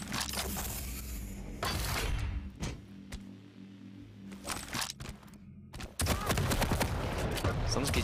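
Bursts of machine gun fire in a Quake 1v1 duel, sharp rapid crackling volleys in loud clusters separated by brief lulls, with a game hum beneath and commentary over the action.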